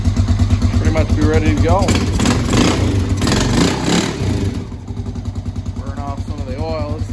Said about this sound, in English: got the new carburetor in there. It's running pretty good.